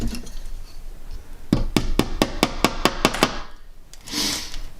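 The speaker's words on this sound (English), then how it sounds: "this hammer is quite not strong enough to pound that down" Hammer striking a metal center punch in a quick run of about eight sharp, ringing blows at an even pace, close and loud, after a few quieter taps.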